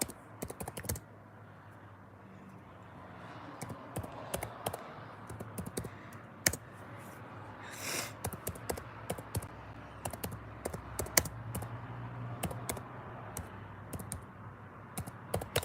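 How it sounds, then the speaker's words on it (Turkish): Typing on a computer keyboard: a steady run of quick, irregular key clicks close to the microphone over a low background hum, with no one talking. "Yazıyorum."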